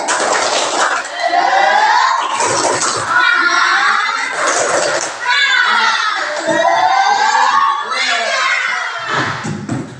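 A room full of schoolchildren chants loudly in unison during a spirited clapping routine, their voices rising and falling in repeated phrases over continuous clapping.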